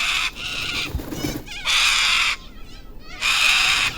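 A caged bird ordered to sing answers with loud, bright, harsh calls in three long bursts separated by short pauses, close and clear, with no talk over it.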